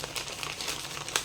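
Thin paper dyed with coffee crinkles and rustles continuously, a soft close crackling with a couple of slightly louder crunches near the end and no talk.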